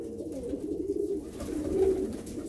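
Pigeons in a loft coo softly, two low rolling coos in succession, close and alone without talk.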